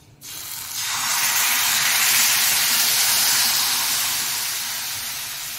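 Ghavan rice-flour batter poured onto a hot oiled pan bursts into a loud, close hiss of sizzling that starts abruptly and then slowly eases over several seconds.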